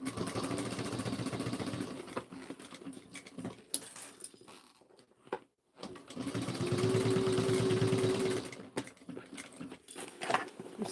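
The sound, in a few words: sewing machine back stitching over the side seams of a bag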